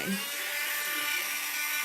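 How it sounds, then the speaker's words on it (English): A small drill bores into a piece of sea glass held under water, giving a steady, loud, high whine that runs continuously without talk. "Now, I'm going to start drilling it."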